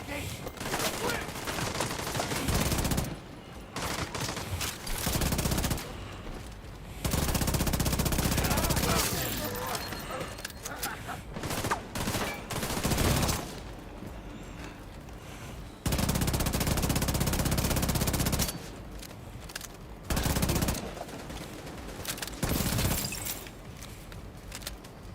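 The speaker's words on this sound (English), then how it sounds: "it feels good to hear my gun" Rapid bursts of a player's gunfire in The Division 2 come in repeated loud volleys, separated by short quieter gaps, with sharp impacts and breaking sounds mixed into the firefight.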